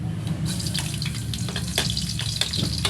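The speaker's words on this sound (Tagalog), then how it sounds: "Ilalaglag natin mga idol ang ating bawang." Garlic drops into hot oil in a pan while making adobo, a steady close sizzle with scattered pops and crackles. No one talks.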